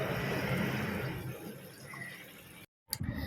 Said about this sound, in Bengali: 2টো বোতলই আমি ভরছি